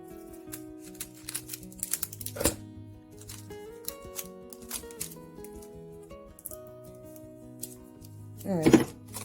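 Tape cut while making a paper tablet bag: scattered crisp snips and rustles of paper and tape, a sharp tearing rip midway, then a louder crinkling cut near the end, close and intermittent with no voices.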